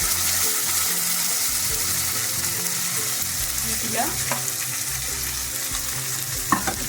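A paste of ginger, tomato and garlic fries in a pan with a steady close sizzle, occasional stirring scrapes and a small clink near the end.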